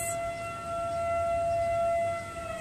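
A steady siren tone holds throughout, sustained and fairly loud over low background rumble, with no talking.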